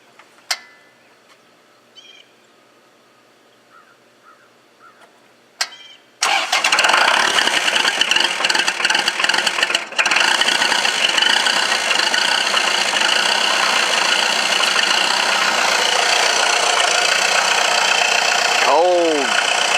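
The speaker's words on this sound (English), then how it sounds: "let me get the camera set up on here and see what we got for a cold start" Kubota MX5100 tractor diesel engine, glow-plugged on a frosty morning, cranks with a few brief clicks before it catches, then settles into a loud, steady idle close by that runs on to the end.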